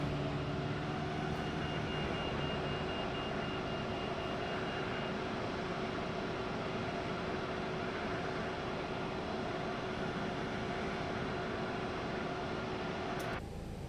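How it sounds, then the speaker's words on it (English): Engines of a ToLiss A321XLR airliner in a flight simulator game drone steadily, a loud continuous roar with a faint hum running beneath it and no talking. "Alright, so these are new engines."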